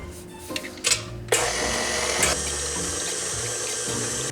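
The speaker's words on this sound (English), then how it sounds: "We're gonna mix this for 1 minute on low, and then we're gonna turn it up to medium for another minute." A stand mixer with a whisk attachment running on low, mixing ingredients for banana pudding: a few short bumps, then a steady whirring hum that continues evenly, close by and alone.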